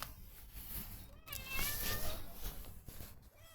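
A stray cat meows plaintively several times, close by, its rising calls clear over a soft background with faint human sounds.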